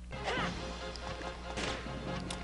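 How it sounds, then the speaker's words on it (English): Heavy smashing hits land on an enemy in the Dark Cloud 2 video game, a few crunching impacts mixed with game noise and a low steady hum. "you can kill it by smashing it with your face smasher"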